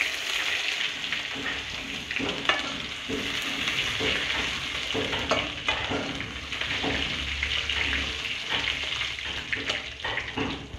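Asafoetida and grated ginger frying in a pan for a dry bottle gourd dish, giving a steady, close sizzle with soft clinks and stirring scrapes throughout.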